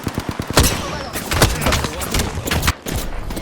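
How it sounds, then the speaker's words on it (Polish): Bursts of automatic gunfire and sharp shots from an Apex Legends match played on Xbox Series X, rapid volleys coming in clusters, loud and close, with someone speaking briefly between them. "Wariaci do mnie strzelają"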